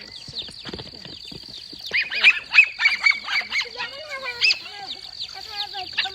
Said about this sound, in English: Puppies are in the pen now, but they're still barking because they see the other goats running by them.